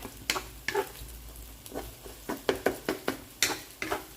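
Garlic fries in a pan for pad see ew, with a soft sizzle under a series of sharp scraping and clinking spatula strokes against the pan in an irregular rhythm, close and fairly quiet.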